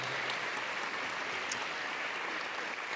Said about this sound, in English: Give them a nice big round of applause, everybody.